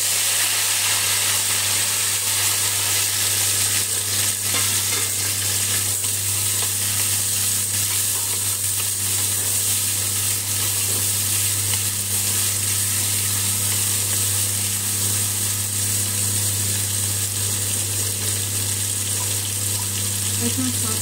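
Chopped onion and tomato fry in a pan over toasted cumin, a steady sizzle running nearly unchanged throughout, close and fairly loud, with a constant low hum beneath and no talk.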